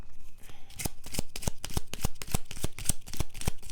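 A deck of Gilded Revelry Lenormand cards is shuffled close up, a steady run of crisp riffling slaps in quick rhythm with no voices.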